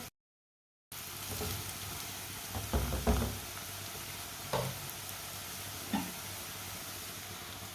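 Garlic and ginger frying in a pan for a kaleji masala give a steady soft sizzle, broken by a few knocks and scrapes of stirring, fairly quiet and with no talking.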